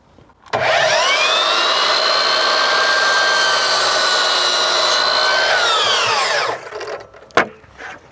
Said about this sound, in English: hard against the back of the fence, and then take your first mitre off.